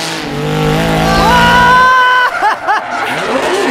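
Formula Drift car launching into an initiation, its engine climbing steadily in pitch at full throttle, then breaking into wavering tire squeal as the car slides, loud and close, with talk and laughter underneath.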